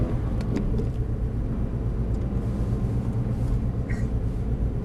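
An Aston Martin pulling hard in third gear on a race circuit, its engine a dense, continuous low rumble close up, steady and loud without breaks.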